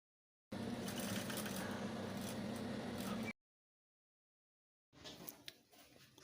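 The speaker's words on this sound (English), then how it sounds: "I'll go ahead and take this to the sewing machine and run a stitch" A sewing machine runs a steady stitch along both edges of a fabric welt. It whirs continuously for about three seconds, stops, and then a softer, rougher mechanical sound follows.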